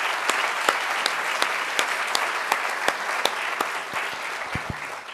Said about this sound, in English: Let's give a huge round of applause to Dave for his extraordinary leadership.